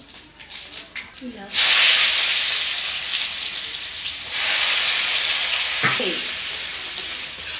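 Panch phoron, a Bengali five-spice mix, hits hot oil while cooking a mixed vegetable dish, bursting into a loud, steady sizzle that dips slightly partway and then surges again, close to the pan.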